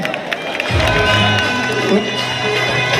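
Crowd at a Mumbai Dahi Handi celebration for Janmashtami 2024 cheers and claps after a six-tier human pyramid; steady dense crowd noise swells in after a brief quieter start, with voices mixed in.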